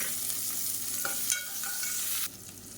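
Chopped shallots fry with cloves and cardamom in a pan for a South Indian lunch dish, giving a steady close bright sizzle with a few stirring scrapes and no voices.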